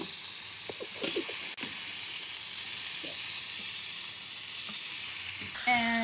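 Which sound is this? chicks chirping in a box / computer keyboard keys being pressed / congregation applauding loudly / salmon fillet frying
salmon fillet frying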